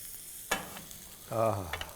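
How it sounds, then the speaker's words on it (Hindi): A shawarma roll fries in butter in a pan, a low hiss with a sharp tap and a short scrape of stirring, quiet and close. "अब इसको कर देते हैं पंजाबी फ्राई। ये लो जी, everything gets better with butter."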